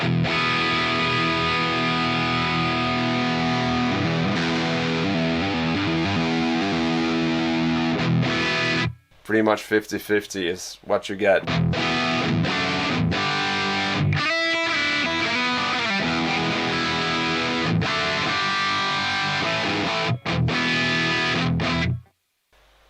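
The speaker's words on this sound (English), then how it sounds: "we have two very different guitar tones, and blending these two together" Electric guitar through the Amped ML Plexi amp plugin, two contrasting tones blended together, plays thick distorted chords almost throughout, with a choppy muted stretch in the middle and a brief spoken line.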